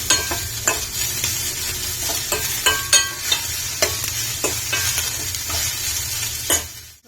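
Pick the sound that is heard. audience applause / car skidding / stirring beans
stirring beans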